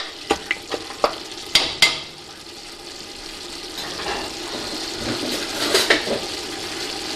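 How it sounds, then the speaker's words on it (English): Meat sautés with spices and chilies for an Indian curry, with a run of sharp utensil clicks and scrapes against the pan, then a softer steady sizzle with a few more taps. "keep sauteing it till all the spices are very well blended"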